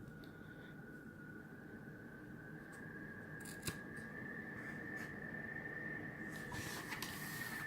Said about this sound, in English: We're just going to snip here on each side so that this turns properly as well.